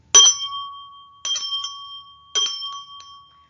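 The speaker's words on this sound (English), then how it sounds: "ring the bell 3 times" A hand bell rung three times to open a ritual, three separate bright metallic strikes about a second apart, each ringing out and fading cleanly in a quiet room.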